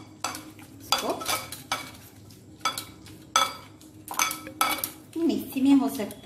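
A paste seasoned with salt and lemon juice, for frying bottle gourd leaves, is mixed by hand in a bowl, giving a run of close, irregular scraping and clinking bursts at a steady working pace.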